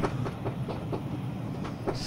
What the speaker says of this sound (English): Oh, another train!